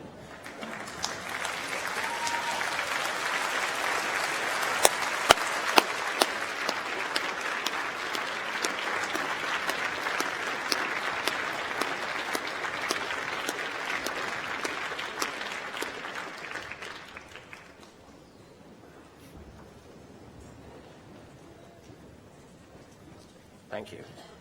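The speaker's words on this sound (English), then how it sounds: "turn to your family and friends in this hall and applaud them for their support" Audience at a winter university graduation ceremony applauding together in a hall, a sustained dense wash of clapping for about seventeen seconds that then fades out to quiet room tone.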